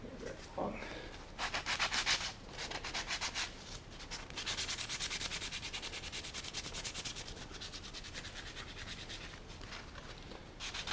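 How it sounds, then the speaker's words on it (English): Sandpaper rubbing across a coped joint in a wooden baseboard, a steady scratchy back-and-forth sanding that runs close and continuous, louder in bursts near the start. "I'm just going to sand this in the middle so that I got a clean line there"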